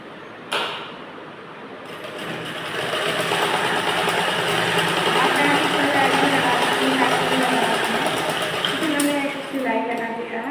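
A sewing machine stitching a blouse, a fast continuous mechanical whir running close and steady for several seconds after a brief start.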